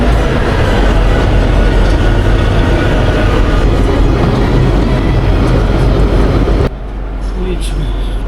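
Himdarshan Express toy train on the narrow-gauge line to Shimla, a loud, continuous close rumble and clatter of wheels on rails that drops away near the end.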